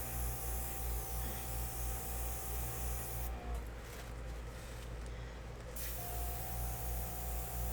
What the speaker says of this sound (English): So I'm going to take my airbrush now and just touch up spots where I want it more wispy